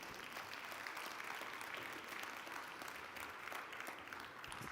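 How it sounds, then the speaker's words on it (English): A luncheon audience at a mayors' climate protection awards event gives a round of applause, dense and continuous but quiet and distant throughout. "Let's have a round of applause for Mayor Ortis."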